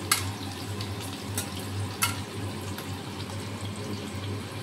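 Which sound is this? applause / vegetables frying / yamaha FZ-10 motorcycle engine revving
vegetables frying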